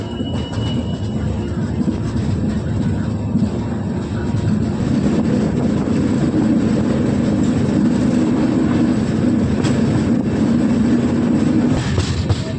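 The Guruvayur–Trivandrum Intercity Express, running with LHB coaches near Kollam, gives a steady loud rumble and rolling roar heard from onboard, with faint clicks of wheels on rail throughout.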